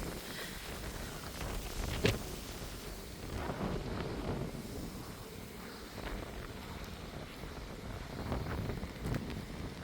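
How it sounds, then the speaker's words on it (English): Warm wind gusts across an open area on a windy evening, a rough continuous rumble and buffeting against the microphone with one sharp thump, steady throughout and without any speech. "As you can see, the wind is blowing."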